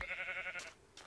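A cow in the video game Minecraft lets out a sustained, moaning low call that holds for most of a second, followed by brief softer game sounds.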